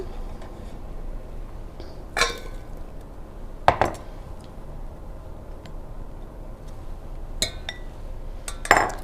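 Dirty dishes being moved aside in a home kitchen while cooking, a few scattered clinks and clatters of crockery and utensils, fairly close, over a faint steady room background.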